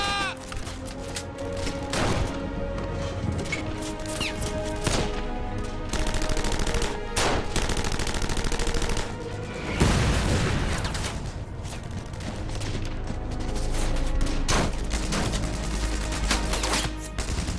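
Dense gunfire from a WWII castle battle, with defenders firing back at advancing SS troops in 1945. Rifle and machine-gun bursts rattle continuously and loudly for the whole stretch, with no pauses.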